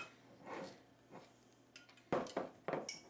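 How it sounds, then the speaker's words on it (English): A small lid on a Dollar Tree gift jar is set back in place and tightened, giving a few faint, close clicks and scrapes that end in a couple of sharper taps. "put my little lid back on"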